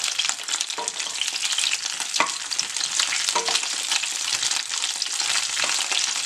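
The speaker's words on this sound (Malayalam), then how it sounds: "നല്ലെണ്ണയ്ക്കകത്തോട്ട് നമുക്ക് ചെറുനാരങ്ങ അങ്ങനെ തന്നെ ഇട്ട് കൊടുക്കും" Whole lemons frying on high heat in hot sesame oil for a lemon pickle, a loud, steady crackling sizzle with occasional sharper pops and spatters, continuous throughout with no voices.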